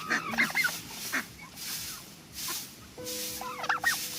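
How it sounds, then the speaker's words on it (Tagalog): Several turkeys gobble in rapid bursts nearby, with pauses between the calls and a low background hum. "Bumabalik na yung mga pabo, ano."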